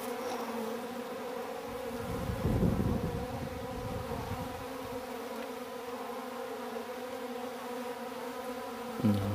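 Bees buzz steadily near a wheel bug, a close, continuous insect drone with a brief louder swell partway through and no voices.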